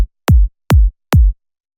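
Original kick drum sample struck three times at an even pace, each hit a deep punchy thump with a quick downward pitch sweep and short decay, loud and dry with silence between.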